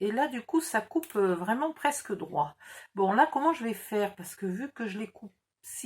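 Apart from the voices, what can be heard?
No distinct noise like a dog, phone or traffic.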